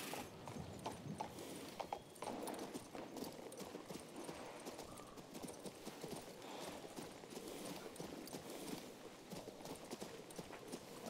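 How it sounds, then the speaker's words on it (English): Horse hooves clip-clopping in the video game King's Bounty 2, a steady rapid rhythm of close, even hoof beats running throughout with no speech. "This time it might be faster to actually use the horse."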